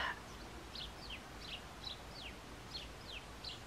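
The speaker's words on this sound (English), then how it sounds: "A lovely little bird song." A small bird sings outdoors at a distance, a series of faint, quick chirping notes repeated at a steady pace over a soft background hiss.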